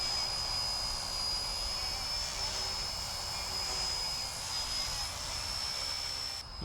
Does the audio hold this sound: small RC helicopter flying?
yes